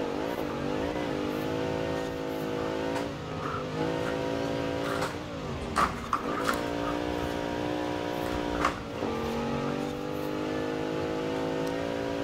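A 2014 Jeep Grand Cherokee engine in the Forza Horizon 4 racing game, played on a Thrustmaster wheel, revs loudly and steadily with rising and falling pitch, plus brief tire squeals and thumps as the car slides.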